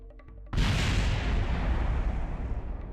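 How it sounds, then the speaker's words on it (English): A rocket crashes and explodes in Kerbal Space Program, a sudden loud boom that erupts after a quiet moment and rolls on as a long, dense, rumbling blast. "That thing's gonna kaboom when it hits."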